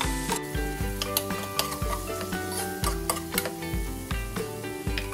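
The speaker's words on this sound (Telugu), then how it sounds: "ఇలా వేగిన తర్వాత పొడవుగా కట్ చేసుకున్న పచ్చిమిరపకాయ ముక్కలు వేసుకోవాలి. అలాగే 1 కప్పు టొమాటో ముక్కలు కూడా వేసుకొని" Green chilli strips and tomato pieces sizzle and fry in a pan while being stirred, steady frying hiss with repeated scraping stir strokes and light utensil ticks, close and alone.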